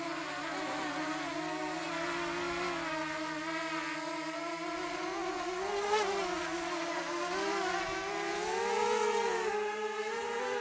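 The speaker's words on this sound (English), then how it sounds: "You heard that our motor started whining up a bit." DJI Mini 2 drone motors whine steadily at close range, a continuous buzzy hum whose pitch wavers and rises slightly as the load shifts, with no talk.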